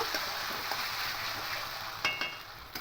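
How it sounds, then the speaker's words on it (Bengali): Ginger, garlic and green chili paste fries with masala in a pan for a fish rezala, giving a steady close sizzle with a few light stirring clicks and scrapes near the end. "এবার আদা রসুন আর কাঁচা লঙ্কার পেস্টটা দেবো দু চামচ দেবো খুব ভালো করে মশলাটা কষিয়ে নেব"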